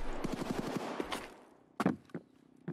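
An RPK machine gun fires in a video game: a rapid burst of about ten loud, close shots in the first second, then a few separate heavier reports trailing after.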